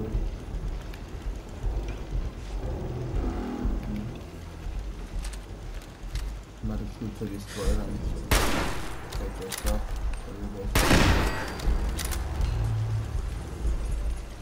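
Gunfire in the Fallout 4 video game on hard difficulty, with distant rattling shots and two sharp, loud blasts standing out over a low, continuous game soundscape.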